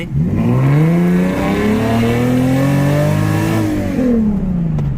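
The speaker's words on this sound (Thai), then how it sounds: "ให้ฟังเสียงข้างนอกนิดหนึ่งฮะ ว่าเปิดวาวดังลั่นขนาดไหน" A loud Nissan 370Z with a Euro Arts valved exhaust, valve open, roars nearby, revving up with a rising, raspy howl, holding high, then dropping back down; no talking.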